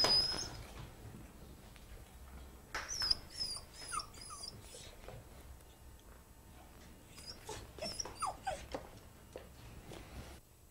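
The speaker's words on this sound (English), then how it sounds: "hold the dog" A dog whimpers in short, high, faint whines that come in two brief clusters against a quiet room background, with small knocks and shuffles in between.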